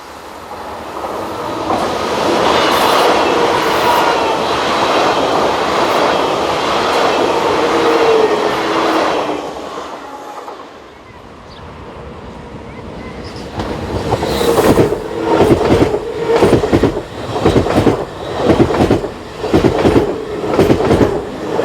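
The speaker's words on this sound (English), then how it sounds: "Intercity expresses do not stop at this station. These are mainly operated using Class 500 train sets," A Class 500 intercity express train passes at speed, a loud sustained roar that fades, then gives way to rhythmic clattering of wheels over rail joints as carriages roll by.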